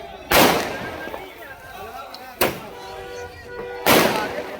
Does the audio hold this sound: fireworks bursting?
yes